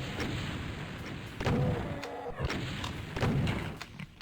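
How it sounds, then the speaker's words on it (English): Rocket explosions in the game DOOM, three fairly faint, muffled thuds spaced over a few seconds, each with a short booming tail, set against steady game background noise and no speech. "I think this is a good time to use some rockets"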